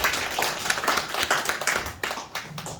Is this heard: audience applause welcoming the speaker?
yes